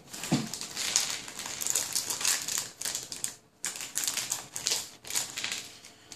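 A plastic bag of screws is torn open and handled close by, with bursts of crinkling and rustling and a light rattle of small metal parts, broken by short pauses.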